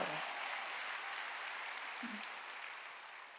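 Korean church congregation clapping during a Wednesday worship service, a soft, distant, steady patter of hands with a brief low vocal murmur, fading slightly toward the end.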